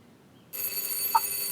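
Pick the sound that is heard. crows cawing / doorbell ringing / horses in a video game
doorbell ringing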